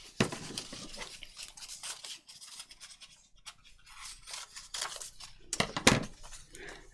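Scissors snipping through paper during patchwork piecing, a series of close, crisp cuts and rustles scattered across the span, with a sharper snip near the end.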